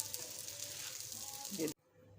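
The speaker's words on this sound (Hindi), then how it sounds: "और अब स्पैगेटी इसमें डाल देंगे।" Spaghetti with chicken sizzles in a pan, a close, soft frying hiss with a short stirring scrape before it stops abruptly, with a voice speaking quietly over it.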